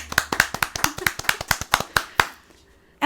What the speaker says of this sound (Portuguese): Palmas para o profissional.